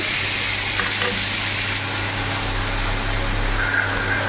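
Ginger and cumin powder, chili powder, whole cardamom and cinnamon fry in hot oil for a pakal fish curry, producing a loud, dense, unbroken sizzle close by, with faint stirring beneath it and no voices.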